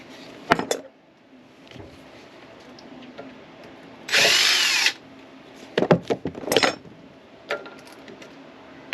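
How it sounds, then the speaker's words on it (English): Power drill removing screws from a Volvo D12 fuel pump, a short high whirring burst in the middle amid scattered clicks, taps and metallic clatter of parts being handled nearby. "Removing the screws."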